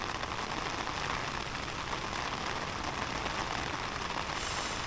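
Steady rain patters on an umbrella, a dense even hiss of drops close overhead without a break.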